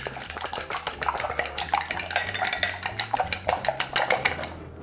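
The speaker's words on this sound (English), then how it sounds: "We are beating eggs slightly with a fork." A fork beats two eggs in a bowl, producing quick, rhythmic clinks and taps against the bowl that continue steadily throughout, close and fairly crisp.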